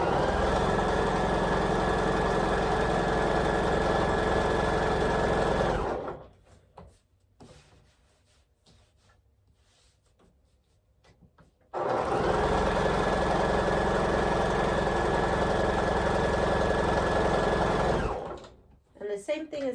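A sewing machine stitches quilt pieces in two long, steady whirring runs of about six seconds each, loud and close, separated by a quiet pause with faint handling sounds.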